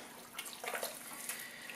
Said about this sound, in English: So now I'm gonna grab my water and add our water in here